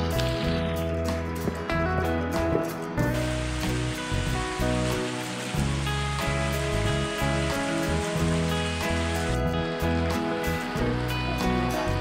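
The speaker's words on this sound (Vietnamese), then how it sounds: "Trời mưa to các bạn ạ." Heavy rain pours down steadily in a forest at Xuan Son National Park near a cave, a dense, continuous rushing wash of water that stays loud and even throughout with no voices.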